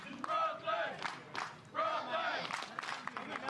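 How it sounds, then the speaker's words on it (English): Fans roar and cheer at a professional pickleball match between Miami and Brooklyn, loud crowd swells rising and falling in waves. "there's plenty of fans cheering on Brooklyn over to the far right of your screen"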